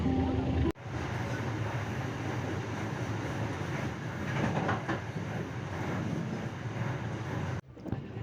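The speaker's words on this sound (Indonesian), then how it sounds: "sebentar lagi kereta KRI Rajabasa akan tiba di stasiun Tanjung Karang" The KRI Rajabasa passenger train runs on rails, giving a steady rumbling roll with faint clickety-clack from inside a carriage, continuous and fairly loud, cut off sharply at both ends.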